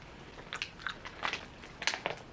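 Hard, brittle dollar-store bubble gum candy being chewed up close: a few sharp, crisp crunches and bites in quick bursts over a quiet background.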